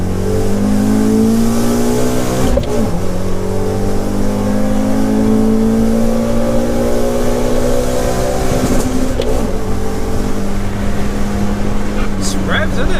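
A BMW 116i sleeper engine revs hard under full acceleration, its pitch climbing steadily through the gears with brief drops at the shifts, loud and close from inside the car.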